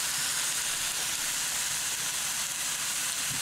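Ramen noodles cooking in a hot pan give off a steady, unbroken sizzling hiss that stays even and fairly loud throughout, with no voices.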